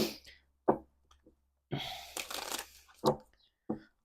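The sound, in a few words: tarot cards being shuffled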